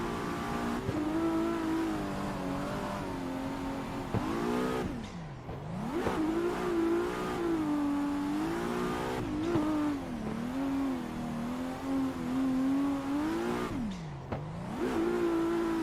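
Race car engine in the Assetto Corsa driving game, revving hard and continuously with rising and falling pitch through gear changes and brief lift-offs during drifting, loud and close with no talk.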